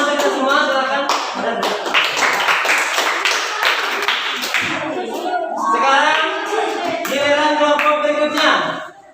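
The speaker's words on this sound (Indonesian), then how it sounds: "Ya, tepuk tangan kita semua, silakan." Classmates clap for a presenting student group in a school lesson, a burst of quick hand claps in the first half that fades as voices take over and talking carries on to the end.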